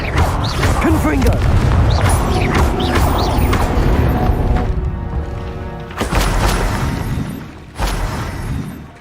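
Confringo fire blast spells cast in Hogwarts Legacy, loud booming bursts and crashing impacts piling over one another in a dense, continuous stretch of magical combat, with a voice speaking over the noise.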